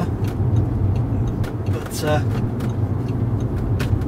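Audi S3 on a road test drive, a steady low engine and road rumble heard from inside the car, with a brief mid-clip whine and someone speaking a word over it.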